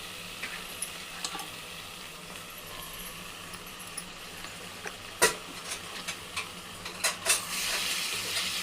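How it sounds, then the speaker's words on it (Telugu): Masala-coated mutton frying in a pan with browned onions, a steady soft sizzle under scattered clinks and scrapes of a spoon against the pan that grow busier and louder toward the end. "ఉల్లిపాయలు కూడా ఇలా కొంచెం మామూలుగా ఎర్రగా అయ్యే వరకు వేయించుకొని అప్పుడు మనం కలిపి పెట్టిన ఈ మసాలా మటన్ ఇందులో వేసేసుకోవాలి"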